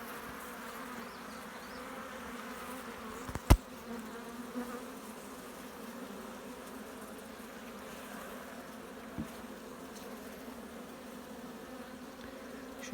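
Honey bees hum at a hive being checked, a faint, steady buzzing drone throughout with a single sharp knock early on.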